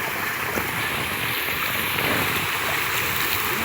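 Water flows and gurgles steadily through a garden channel, a continuous, close wash of sound with no voices over it.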